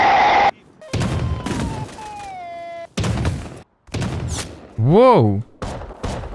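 Shotgun slug blasts in a video game fire in several loud, abrupt bursts separated by short gaps, mixed with sharp game effects and a rising-falling warbling tone, while a voice briefly exclaims.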